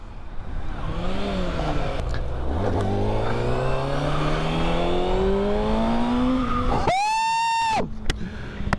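A 2023 Kawasaki Ninja ZX6-R motorcycle revs and accelerates hard, its engine pitch climbing steadily through a long pull before a brief high shriek, then dropping off. The sound is loud and close, with no talking.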